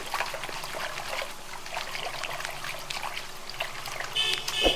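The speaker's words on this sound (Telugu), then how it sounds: "ఇదిగోండి ఆకుకూర అయితే శుభ్రంగా కడిగేస్తున్నాను" Fresh fenugreek leaves washed under running water, a steady close trickle and splash of tap water with faint handling of the greens, no talking.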